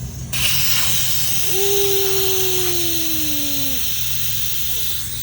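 Air rushes out of a vehicle tyre off-road in the Saudi Arabian desert in a steady, loud hiss, with a whining tone that rises and slowly falls for a couple of seconds midway.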